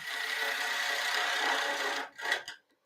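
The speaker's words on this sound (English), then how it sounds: "let's drill out the middle a little bit" A wooden bowl spinning on a lathe while its middle is drilled out, giving a steady, close rasping grind for about two seconds before it breaks into short scraping bursts.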